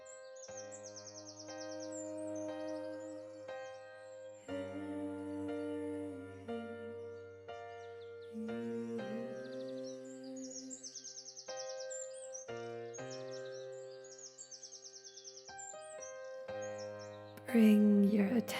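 High chirping birdsong comes in bursts over soft, sustained piano chords during a calm yoga nidra relaxation practice, fairly quiet and layered under the music.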